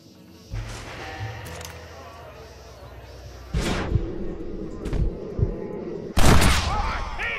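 Gunshots in the Western video game Red Dead Redemption, a few sharp, loud cracks spaced apart with echoing tails, the last shot the loudest, over faint game ambience and music.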